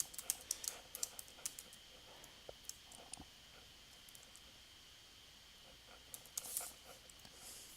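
Faint, quick keystrokes on a computer keyboard entering a password during a Windows installation, in irregular bursts of clicks separated by a hushed gap, with no talking.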